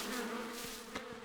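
Bees from a hive in a cartoon give off a faint, steady buzzing drone that lasts about a second, with no speech.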